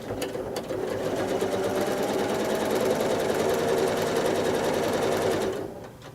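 A sewing machine stitching free-motion quilting on pieced fabric runs in a fast, steady mechanical chatter for several seconds before slowing and stopping near the end.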